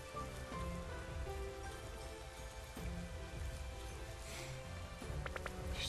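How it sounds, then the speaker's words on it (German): Steady rain in Pokémon Sword, a dense, even patter falling continuously on surfaces, with faint tapping near the end and no talk. "dass wir jetzt hier ein bisschen Regen hier haben"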